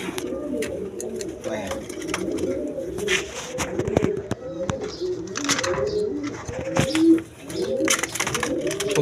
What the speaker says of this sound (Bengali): খুব চঞ্চল কবুতর